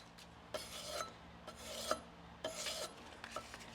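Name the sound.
sharpening a leather strap end punch on abrasive grits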